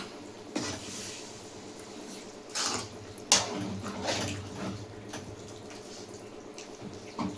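Water being poured into a pan of prawn gravy while cooking, with soft splashing and trickling in bursts and a low kitchen hum beneath.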